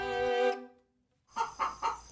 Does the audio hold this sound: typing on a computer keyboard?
no